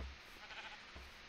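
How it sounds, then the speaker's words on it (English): A sheep in a Minecraft-style video game gives a soft, drawn-out bleat, faint and wavering, with no other sounds around it. "Oh, sheep. Hi, sheep."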